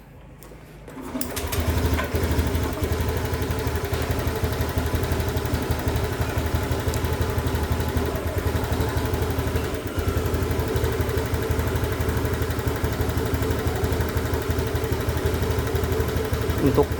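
A Honda Beat motorcycle engine starts after a second of quiet and settles into a steady, close, buzzing idle that continues to the end.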